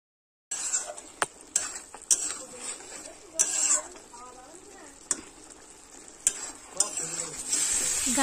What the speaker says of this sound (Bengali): মশলার সাথে ভালোভাবে গাঁটি কচু কষাই করে নেব